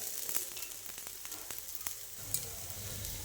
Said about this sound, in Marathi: थोडंसं याला तेल टाकून घ्यायचं आजूबाजूने